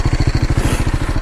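A BMW G310R single-cylinder motorcycle fitted with a full Akrapovic exhaust system runs close by, its loud, steady pulsing thump coming at a fast, even beat with no voices over it.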